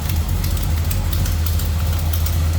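A 1967 Chevrolet Camaro RS with a built 350 V8, Edelbrock intake, four-barrel carburettor and HEI ignition, idles loudly and close by with a deep, steady, lumpy rumble.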